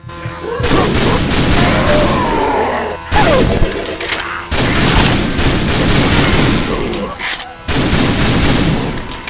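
Loud, rapid gunfire from the House of the Dead: Overkill video game comes in dense bursts, broken by short pauses. Game voices speak over the shooting.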